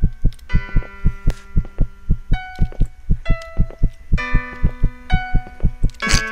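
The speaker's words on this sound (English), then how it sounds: "my heartbeat's gonna fucking make me go through the wall" In the horror game One Late Night, a loud, regular heartbeat throbs continuously with an even double-thump rhythm beneath drawn-out ominous tones, and nobody speaks.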